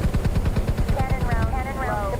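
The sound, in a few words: helicopter cannon firing in video game MSFS24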